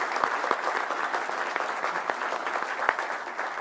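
An audience claps in a sustained round of applause for guests from West Texas A&M University at an Amarillo public event, dense overlapping hand claps that hold steady throughout with no one speaking.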